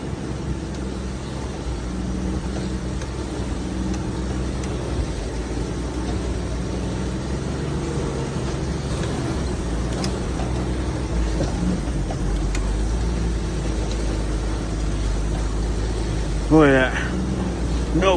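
Jeep driving up a mountain trail near Sheridan, Montana, a steady low engine drone inside the cab while people talk over it.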